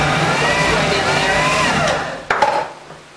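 A food processor blends onion, its motor whirring steadily and loudly for about two seconds before a clatter and a brief surge, then winding down into quiet.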